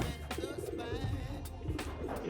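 Cross-bred pigeon cooing near and steady, low rounded coos repeating in a soft rhythm over a faint background of other birds, with no talk.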